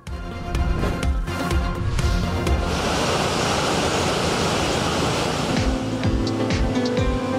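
Steady ocean surf rolls in as a continuous, loud wash of breaking sea waves, with no voices over the broad rushing noise.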